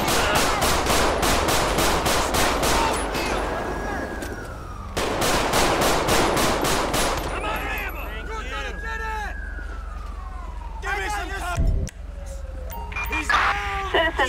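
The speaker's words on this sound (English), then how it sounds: "Somebody's still shooting. Who is still shooting?" Gunfire in Grand Theft Auto V during a police patrol mod: loud rapid bursts of automatic shots, then a wailing siren rising and falling, with scattered shots and traffic noise continuing underneath.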